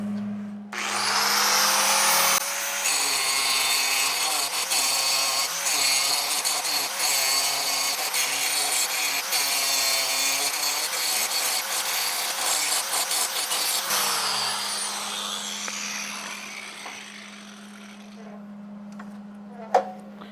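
Power grinder working an old, crusty car frame for a Model A hot rod body jig, spinning up into a loud continuous rasping whine for about twelve seconds, then winding down slowly and fading out.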